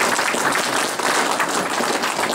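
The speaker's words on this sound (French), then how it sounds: "on va l'applaudir" A crowd at a public event applauds continuously, a dense wash of clapping at even, moderate loudness throughout with no speech over it.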